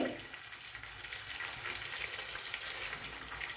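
Onions deep-fry in oil for chicken biryani, a continuous crackling sizzle at moderate level with occasional stirring, heard alone without voices.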